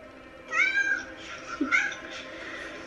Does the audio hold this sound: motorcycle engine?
no